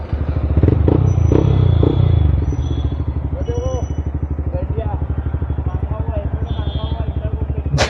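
A motorcycle fitted with a full aftermarket exhaust system idles close by with a steady, deep, throbbing pulse that is louder for the first two seconds, while faint voices can be heard in the background.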